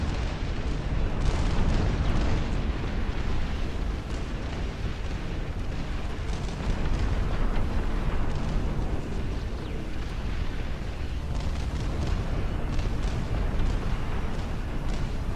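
Artillery shells explode in the Dust Front RTS video game, a dense, continuous barrage of loud rumbling booms that overlap with no pauses.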